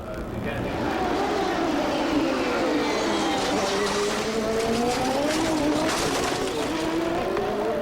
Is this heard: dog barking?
no